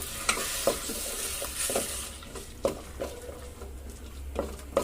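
A spoon stirs a mutton bagara rice mixture in a pot over steady frying sizzle, with a handful of sharp scraping clicks and knocks spaced irregularly through the stir.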